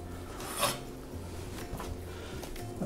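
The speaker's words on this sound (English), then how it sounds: "once you get that fat off of there" A knife scrapes and rasps against a salmon fillet as fat is trimmed away, producing a few short scraping strokes over a low steady background hum, with no talking.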